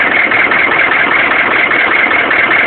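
A 1995 6.5-liter turbo diesel engine with a bad turbo and random timing loss runs steadily, giving a loud, continuous rough rumble heard up close.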